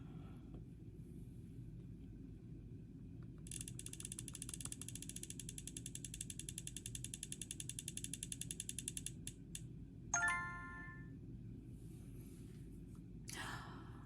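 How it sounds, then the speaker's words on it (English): Prize wheel spun for picking eyeshadow palettes, giving a steady run of quiet, rapid clicks lasting several seconds that slow and stop, followed by a few faint knocks. "let's spin the Wheel of Wonder and see what other 3 eyeshadow palettes get chosen for me"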